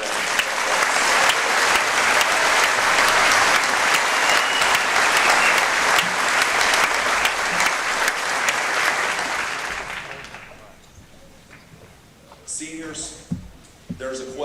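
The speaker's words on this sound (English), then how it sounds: "Would everyone please join me in giving our teachers a well-deserved round of applause" A large audience at a high school graduation ceremony in a hall gives teachers a sustained round of applause, dense and loud for about ten seconds before fading, then a voice begins speaking.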